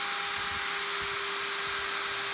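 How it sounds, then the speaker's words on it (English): A power drill bores a pilot hole in wood while building a picnic table. It gives a steady, loud, high-pitched motor whine with a fixed tone, close and alone with no talk. "We're going to drill a hole so we don't split the wood."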